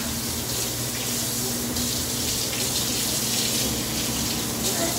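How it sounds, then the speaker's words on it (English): Kitchen tap running steadily into a sink while a butter-covered whisk is rinsed, a continuous close splashing gush that lasts throughout with no pauses. "I had to clean the whisk real quick because it was covered in butter."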